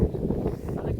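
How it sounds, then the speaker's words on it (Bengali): Strong wind buffets the microphone on an open hillside near a mountain peak, a steady low rumbling roar filling the whole second at close range, with no other sounds standing out. "বিশাল হাওয়া দিচ্ছে।"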